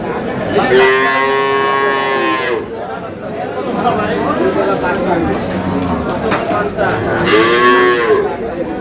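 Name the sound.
cow and calf lowing at a cattle market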